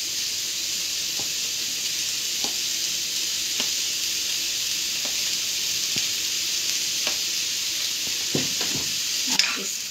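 Amul paneer fries in a pan with a loud, steady hiss and sizzle, punctuated by occasional light taps and stirring scrapes close by.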